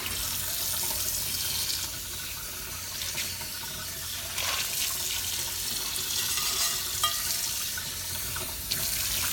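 A well-seasoned Lodge cast iron pan is scrubbed with a chainmail scrubber under running water, giving a steady close rush of tap water with a gritty scraping texture throughout.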